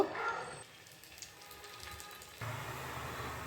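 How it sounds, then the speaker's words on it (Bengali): Spinach tikki frying in hot oil produce a soft, continuous hiss and spatter, quiet and close, with the texture shifting slightly partway through and no voices. "এইভাবে সমস্ত পালং টিক্কিগুলো আমি ভেজে নেব।"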